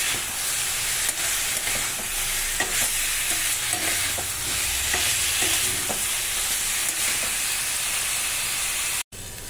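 Whole cumin seeds sizzle and crackle in hot oil in a pan, a loud, continuous frying hiss with scattered pops and light stirring, no voices, ending in a brief cut.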